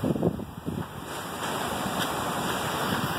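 High-tide surf at Waihi beach, with wind rushing over the microphone, a couple of close wave splashes at the start, then a steady broad roar of breaking water.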